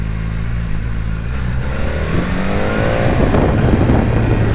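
BMW S1000R motorcycle engine running loud and close, a deep rumble that rises into a revving climb toward the end.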